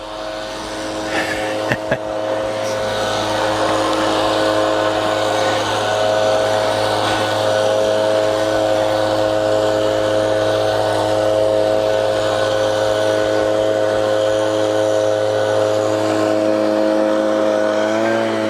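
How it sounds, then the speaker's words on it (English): A leaf blower clears leaves off a small railway line in a Morecambe park, holding a steady, loud motor drone with a constant whine for the whole stretch while people talk nearby. "he's blowing the leaves off the line"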